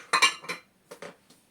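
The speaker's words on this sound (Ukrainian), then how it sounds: "беремо зручну нашу тару, викидуємо туди нашу картопельку, викидуємо туди наш перчик" Diced potatoes and peppers dropped into a container while preparing homemade oven-baked shashlik: a few quick clattering knocks close by, in two separate bursts with a short quiet gap between them, and no voices.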